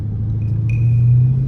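A Dodge Challenger R/T engine idles low and steady while warming up after a cold start, a close, continuous rumble with a faint high whine entering partway through.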